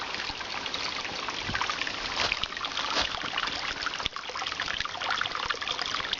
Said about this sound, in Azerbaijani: Suyun şırıltısının səsi gəlir, çayın axmağı.